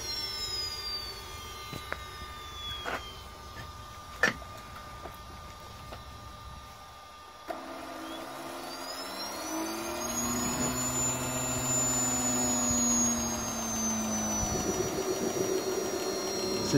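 A Wren model jet turbine starting up: clicks and a rising whine in the first seconds, then the turbine lights and settles into a steady whooshing roar with a high tonal whine that slowly climbs. Close and moderately loud, with no talking.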